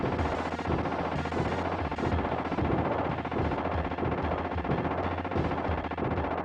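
Rapid gunfire from the SuperScope light-gun game T2, a dense continuous barrage of shots and explosions with a driving game soundtrack underneath, loud and steady throughout with no pauses.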